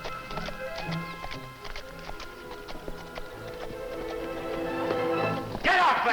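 Horse hooves clip-clop steadily along a trail as a rider approaches, getting closer and louder toward the end, with voices and other noises in the background.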